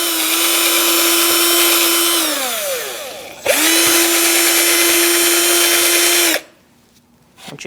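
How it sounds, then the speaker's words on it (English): A power drill with a wire brush, cleaning a brake part on a Chevrolet Cruze, whines loudly and steadily, winds down and stops, then spins up again before cutting off into near silence. "I'm using a wire brush on my drill."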